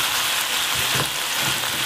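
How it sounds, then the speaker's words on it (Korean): Black bean paste stir-frying in a pan with oyster sauce and chicken stock, a loud continuous close sizzle with faint stirring, no talking. "굴소스 넣고 볶아줍니다."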